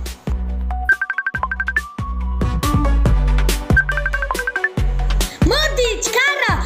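Cartoon telephone ringing on New Year's Eve in a school-made animated film, a repeated electronic ringtone in bursts alongside music and animated voices.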